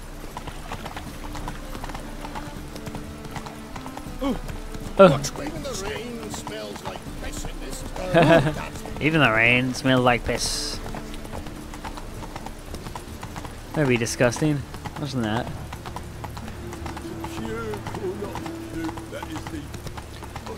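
Horse hooves clip-clop at a slow gallop in The Witcher 3, a steady rhythmic patter running under a voice and some game dialogue.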